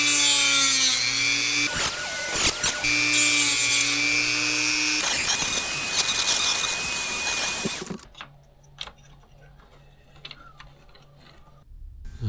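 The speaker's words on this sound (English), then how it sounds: "I'm drilling these holes so I can fasten the wire in so the coil doesn't unravel" A power drill whines steadily into a Datsun Roadster fuel sending unit for several seconds, its pitch shifting as it bites, then stops, leaving faint scraping and handling sounds.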